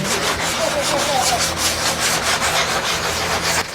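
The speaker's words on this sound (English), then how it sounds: "We sanded for an insane amount of time with some sanding blocks until Mike realized" Rhythmic rasping strokes of a sanding block scrubbing a butcher block countertop, quick back-and-forth passes, close and loud, with no talking.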